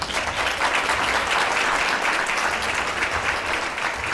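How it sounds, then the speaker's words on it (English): A crowd at a women's bar association scholarship tea applauds an honoree, dense and continuous clapping from many hands, fairly loud and unbroken throughout. "please help us welcome her by giving her a round of applause this evening"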